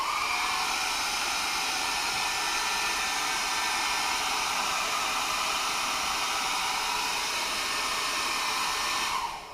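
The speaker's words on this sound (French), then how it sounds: "Alors regardez ce que ça donne avec le sèche-cheveux." A hair dryer blows steadily and loudly for several seconds, drying alcohol inks on Yupo paper, with a constant airy roar and no talking.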